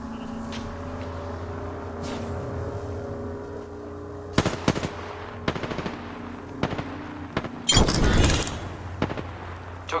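Automatic gunfire in the Apex Legends video game, with sustained bursts of rapid shots and sharp impacts over a steady droning backdrop, including a dense loud volley near the end.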